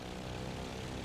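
Propeller aircraft engine in the IL-2 1946 flight game, a steady, dense droning hum at low throttle, continuous and unchanging over a short stretch with no voices.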